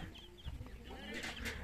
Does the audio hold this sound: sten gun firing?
no